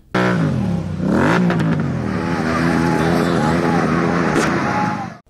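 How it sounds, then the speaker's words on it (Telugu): Cars and motorbikes racing at the Anantagiri view point: a loud, sustained engine roar with rising and falling revs, a sharp burst of acceleration early on, and a voice talking over it. "అనంతగిరి వ్యూ పాయింట్ వద్ద బైక్ రేసులు కార్ రేసులకు పాల్పడుతున్నారు"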